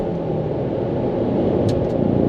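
A QM6 SUV accelerates on a highway, heard from inside the cabin as a steady, dense road and engine drone with no distinct rev peaks, with a couple of faint high ticks near the end.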